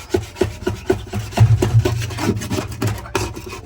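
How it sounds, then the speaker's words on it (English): An old hand tool scrapes a surface inside a backyard chicken coop in a run of rhythmic rasping strokes, close and fairly loud, with a few soft thumps mixed in. "I have this old tool here that I use to scrape off."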